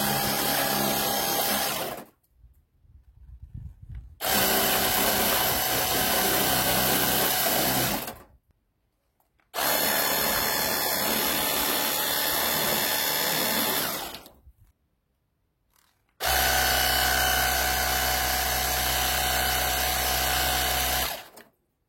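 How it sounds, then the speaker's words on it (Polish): An XARI Smart Kit cordless pressure washer runs in three long bursts of several seconds each with short silent gaps, a loud steady motor whine close by. "No i tutaj teraz możemy już uruchomić naszą myjkę."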